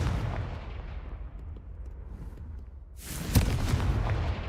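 A Confringo blasting spell explodes in Hogwarts Legacy, a sudden loud boom with a broadband crackling burst following a rumbling stretch of lower ambience, alone without talk.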